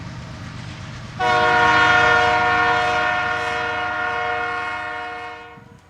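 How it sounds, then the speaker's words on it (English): A train passes by at night near a school soccer field, its loud sustained horn sounding over the rumble of the cars, starting abruptly and holding steady for several seconds before tailing off. "Third train. It's a lot of trains. A lot of trains tonight."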